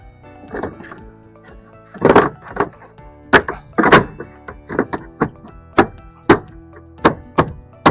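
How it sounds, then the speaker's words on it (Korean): Plastic taillight connector on a Hyundai Starex being pushed into its three-hole socket, giving a series of sharp clicks and knocks in an uneven rhythm, close and fairly loud, with some voice. "커넥터를 여기 구멍 3개에 맞춰 넣으시면 됩니다"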